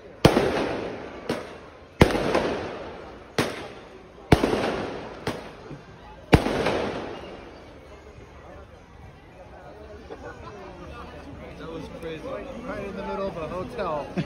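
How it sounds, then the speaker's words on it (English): Fireworks going off right outside a hotel entrance, a run of loud sharp bangs spaced a second or two apart with crackling tails, then fading into distant crackle and outdoor murmur. "Shooting fireworks right off right here."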